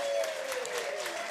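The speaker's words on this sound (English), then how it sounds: "let's give a big round of applause for you being here tonight" Crowd applause at a live music show, a brief, fairly quiet burst of clapping with a sustained tone running beneath it.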